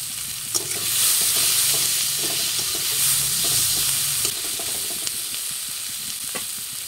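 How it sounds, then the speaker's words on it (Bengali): Panch phoron, chilli and onion sizzle in hot oil on a rooftop village-style cookout, a steady frying hiss with frequent scraping stirs and small clicks of the spatula. "ওই তেলের মধ্যে দিয়ে দেবো 5 ফোড়ন, লঙ্কা, পেঁয়াজ, আর দিয়ে দেবো নুন, হলুদ।"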